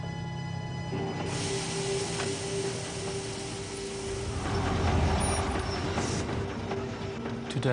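A passenger train runs along the rails, a steady rumbling roll with mechanical clatter, faint squeals and a swelling passage near the middle, with no voices.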